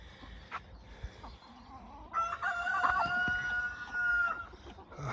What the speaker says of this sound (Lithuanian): sveikinasi gaidys.